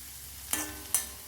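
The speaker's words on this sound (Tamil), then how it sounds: "கொஞ்சம் வடகம் போட்டுக்கலாம்" Vadagam dropped into hot sesame oil for a fish curry tempering, giving three short bursts of sizzling and crackling, each spiking sharply then fading quickly, close and fairly loud with no talk.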